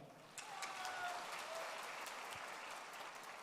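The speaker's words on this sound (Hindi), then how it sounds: "एक बार जोरदार तालियां।" Hearty audience applause at a direct selling business speech event, a dense steady wash of many hands clapping that swells after a brief quiet start and holds evenly, moderately distant, with no voices over it.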